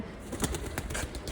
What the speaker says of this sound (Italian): Piccione.